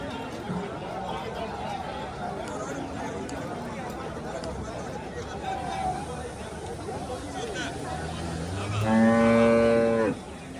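Cattle lowing at a large livestock market in Karungalpalayam, Erode, amid a steady crowd hubbub, with one loud, sustained moo rising near the end.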